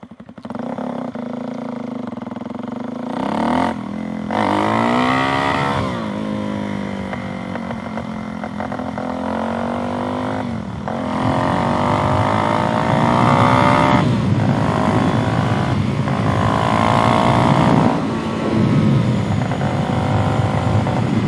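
A Suzuki DRZ400SM single-cylinder engine fitted with a knock-off FCR 39 carburetor runs continuously and loud, revving up and down repeatedly with rising and falling pitch.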